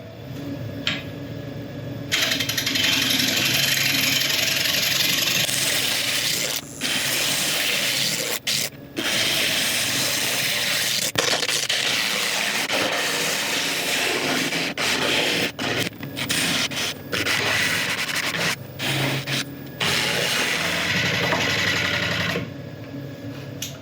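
An oak burl spins on a woodturning lathe while a tool cuts it, making a continuous loud scraping, rasping hiss with brief breaks between passes, close and steady.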